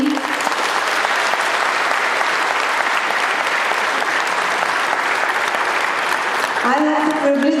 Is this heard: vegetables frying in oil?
no